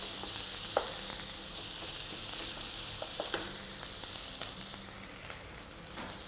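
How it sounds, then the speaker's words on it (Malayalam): Fish masala paste for tilapia sautés in a pan, a soft continuous sizzle with occasional light scrapes and taps of stirring, close but fairly quiet. "ഇനി ഇതൊന്ന് വാട്ടിയെടുക്കാം"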